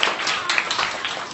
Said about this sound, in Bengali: তাহলে মিমের জন্য সবাই হাততালি দাও জোরে